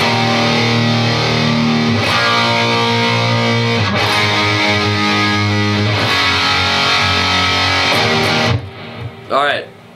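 Distorted electric guitar plays the chorus of a song as a dense, loud, steady rock texture, cutting off near the end into a brief quieter tail.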